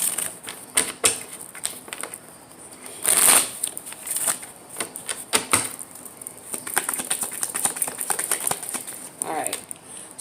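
Tarot cards are shuffled and drawn, giving bursts of riffling, flicking and soft slapping card sounds that come close and fairly loud and repeat unevenly through the stretch, with no talking.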